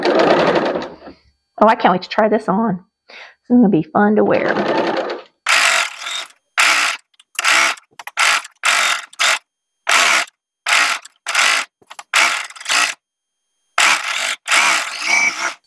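A sewing machine stitches a sleeve into a knit top in short, loud, close bursts with brief pauses between, after someone speaks at the start.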